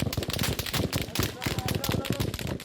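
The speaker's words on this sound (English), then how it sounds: "there's a hail of gunfire." Heavy, continuous burst of automatic gunfire fired at an ambulance convoy, with rapid loud shots overlapping densely and no pause throughout.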